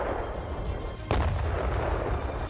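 Tanks and artillery firing at targets during a Ukrainian military drill, heard as one heavy boom over a continuous low rumble, moderately loud and some distance away.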